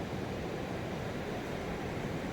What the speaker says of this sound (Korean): 이런 파도 소리는 처음 들어보는 것 같아요